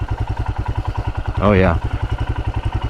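A Royal Enfield Himalayan single-cylinder engine idles with a steady, even thump throughout, and someone speaks briefly over it near the middle.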